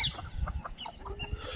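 Desi chickens and small chicks clucking and peeping on a free-range poultry farm in the morning, with soft scattered calls and rustling close by and no talk.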